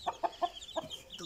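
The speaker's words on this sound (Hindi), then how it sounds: "मुर्गी चेक करो सो कैसी है मुर्गी" A mother hen with chicks gives several short, close clucks in quick succession, followed by softer chick-like peeps.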